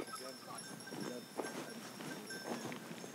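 A flock of sheep is driven out to graze, giving a busy outdoor mix of soft bleats, shuffling hooves and faint bell-like clinks, with someone talking over the animals.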